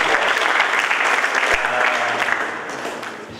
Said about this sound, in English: You should even clap for that